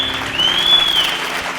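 Church congregation clapping during a sermon, a short burst of dense, steady applause filling the hall, with a thin high tone running through it.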